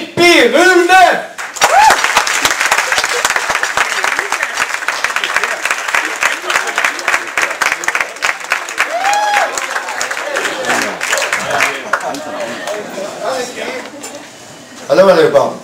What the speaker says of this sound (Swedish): Ge en stor varm applåd till Hippie Rune!